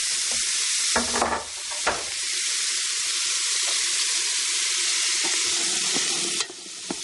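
Onion sizzles in olive oil in a large soup pot with a steady, dense frying hiss, broken by a few louder stirring scrapes and bumps, close and continuous with no talking.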